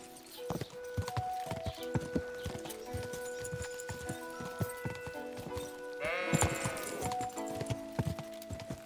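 Horse hooves clip-clop steadily in Kingdom Come Deliverance 2, mixed with sheep bleating close by and a brief horse whinny; no one speaks.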